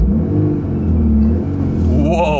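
A sporty Volkswagen Golf engine revs with a deep, throaty rumble that rises and falls nearby, and a voice exclaims briefly near the end.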